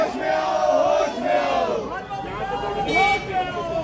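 Crowd of Congress party workers in Himachal chanting and shouting in protest against Smriti Irani, loud massed voices rising and falling in waves, with traffic noise faintly beneath.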